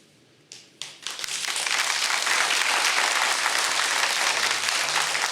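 Audience applause at a Ukrainian political speech starts with a few scattered claps, then swells into loud, sustained, dense clapping from a full crowd.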